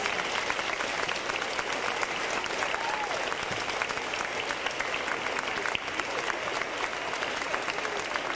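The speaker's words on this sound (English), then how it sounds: "Let's give a big round of applause." Dense, sustained applause from a graduation ceremony audience, steady and even throughout with many hands clapping at once, a mid-sized crowd close by and no pauses.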